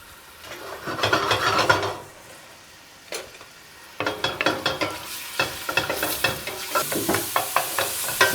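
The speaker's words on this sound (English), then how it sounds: "As soon as it starts sizzling like that, you're good to go." Fresh lobster sizzles in a hot pan for linguine, with bursts of frying hiss and a rapid run of scraping, stirring strokes, close and fairly loud.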